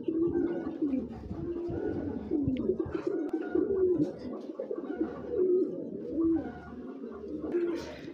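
A female Hungarian Budapest pigeon coos in soft, repeated low rolling phrases, close by, with faint chirps and background noise around it.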